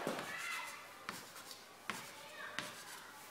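Close, faint rubbing of an eraser and marker on a classroom board while a cartoon face is drawn, with several sharp little taps and strokes spread unevenly over steady low background noise.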